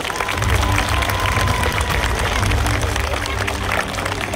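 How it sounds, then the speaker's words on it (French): Outdoor crowd applauding a knight at a medieval tournament at La Baillée-des-Filles in Les Ponts-de-Cé, a dense, sustained wash of clapping and crowd noise with low rumble, steady and loud throughout. "Vous pouvez l'applaudir un peu plus fort."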